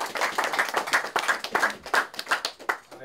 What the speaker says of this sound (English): Tony's got a newborn, healthy newborn, so clap it up for Tony.